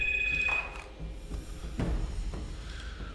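A telephone rings in short electronic bursts at low volume with gaps between them, competing with faint game sounds in the background.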